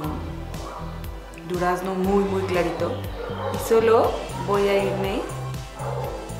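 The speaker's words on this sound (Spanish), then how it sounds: "Disculpen los perros." Dogs bark in the background, a few short barks and yips under steady, clear talk that dominates the recording.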